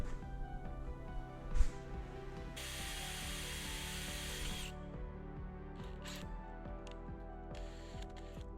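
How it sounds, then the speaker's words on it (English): A 5mm drill bit bores into a Nissan GT-R RB26 cylinder head, giving faint mechanical whirring and ratcheting with one louder grinding stretch partway through, close up in a quiet workshop. "We're going to use a 5mm drill."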